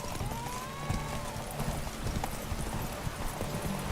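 Geralt's horse Roach gallops in The Witcher 3: Wild Hunt, rapid hoofbeats pounding steadily and close under a faint whinny and background game music.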